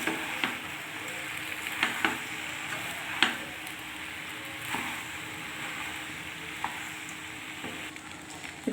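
Pasta with egg is stirred in a frying pan, a soft continuous sizzle marked by irregular clacks and scrapes of a spoon against the pan, fairly quiet.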